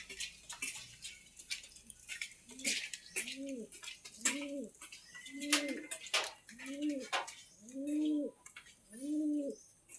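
Young pigeons in a breeder's loft give repeated soft cooing calls, about seven evenly spaced coos, with sharp chirps and clicks from other birds scattered through the background.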